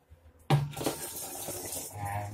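Water is poured from a container into a plastic bottle to make a DIY yeast and sugar CO2 system, starting with a sudden splash and then trickling and gurgling steadily.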